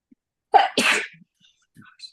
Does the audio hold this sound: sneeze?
yes